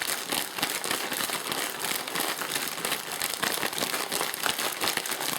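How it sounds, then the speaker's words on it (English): Chicken wings shaken in a sealed bag of flour give a steady, dense crinkling rustle of plastic, close and continuous for several seconds, with no voices over it. "you can seal your bag up. And you're going to mix this all up so it's in your flour."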